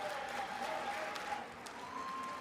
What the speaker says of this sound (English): Just the Democrats all stand up and start clapping.